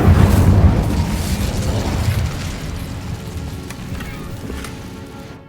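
An Incendio fire spell bursts in the Hogwarts Legacy video game with a loud, roaring whoosh at the start that gradually fades into a crackling tail over several seconds.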